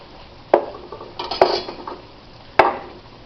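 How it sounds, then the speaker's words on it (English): Tomatoes tumble into a metal pot while a ragu is being made: a few sharp clattering knocks of pot and utensil, spaced out and close by, with softer clinks and scraping between them and no talking. "I'm going to put the tomatoes in here."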